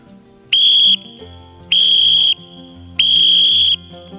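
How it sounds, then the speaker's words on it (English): Three loud, shrill whistle blasts sounding an SOS distress signal, each about half a second to a second long, evenly spaced with short pauses between them. "The universal signal for SOS, or someone's in distress, is 3 loud blows in the whistle"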